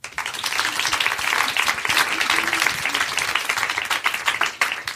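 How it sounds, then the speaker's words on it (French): A live studio audience claps and cheers after a story in a French podcast recording, dense applause sustained loudly and evenly throughout. "On applaudit ?"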